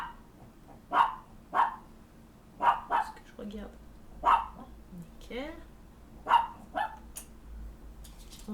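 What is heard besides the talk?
dog barking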